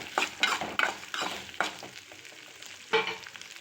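Onions frying in a pan for Tirunelveli-style sundakkai kulambu, stirred in several scraping strokes over a soft, steady sizzle, close and without talk.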